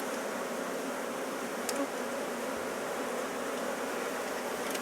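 Honey bees buzz steadily at a hive, a continuous soft drone of many insects with no pauses, fairly close and even in level throughout.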